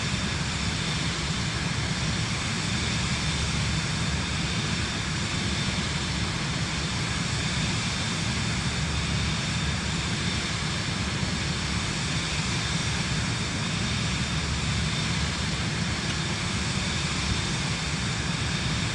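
Aircraft engine in the Microsoft Flight Simulator 2024 game on PS5, a constant broadband droning roar at steady power with no breaks, sustained and even throughout.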